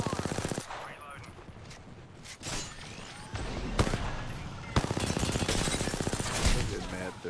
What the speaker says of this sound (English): Being shot at. Taking fire.